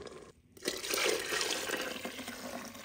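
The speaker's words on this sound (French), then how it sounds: "Je viens rajouter 2 litres d'eau" Two litres of water poured from a rinsed blender bowl into a Cookeo multicooker pot, a steady splashing gush that starts abruptly after a brief quiet moment and carries on, close by.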